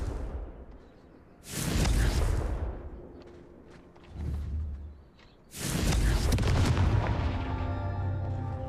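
Confringo spell explosions in a video game burst twice, each a loud booming blast with a rushing tail, separated by quieter rumbling game ambience and a brief thump in between.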